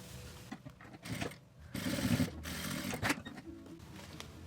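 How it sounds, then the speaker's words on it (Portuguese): A sewing machine runs a straight seam along a crease in bursts of rapid mechanical whirring, stopping and starting, close and fairly loud with no talking. "passo a costura reta em cima aqui desse vinco"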